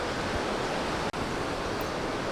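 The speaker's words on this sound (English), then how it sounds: "it's a beautiful view of the Pacific Ocean with the waves crashing into the lava rock shore" Pacific Ocean surf crashing onto a lava rock shore in Hawaii, a steady broadband roar of waves that continues unbroken apart from one brief dropout near the middle.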